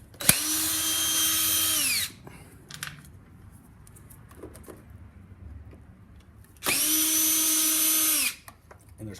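A power drill backs Phillips bolts out of the intake on a 2003 Honda CBR600RR, whining in two bursts of about two seconds each. Quiet clinks and handling noises fill the pause between them.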